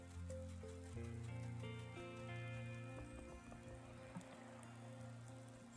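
Rain in the video game Wylde Flowers patters softly and steadily on surfaces, a faint continuous shower layered under gentle background game music.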